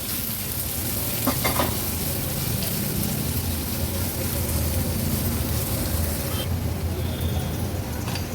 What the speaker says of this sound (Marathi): मिरची आलं लसूण क्रश आणि कांदा छान आपल्याला शिजवून घ्यायचा आहे